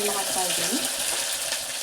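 Onions dropping into hot oil in a pan with cumin and garlic paste, a loud, dense frying hiss that holds steady through the short moment.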